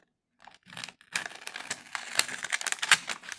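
Plastic packaging of a chunky Clarity and Direction spell kit from a subscription box is cut and torn open, with crinkling and sharp snipping noises. The sounds are close and busy, starting after a brief silence and continuing without any voice.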